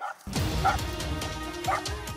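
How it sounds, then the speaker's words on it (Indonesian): Hunting dogs chasing a monitor lizard through muddy water let out repeated sharp barks and yips in a steady, loud, close rhythm, with a brief whimpering edge. "Lolongan anjing semakin kuat terdengar."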